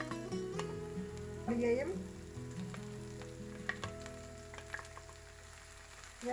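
Onion and chillies frying in a pan for a shrimp noodle dish give a soft, steady sizzle with bursts of stirring, heard close but fairly quiet, with a voice speaking over it.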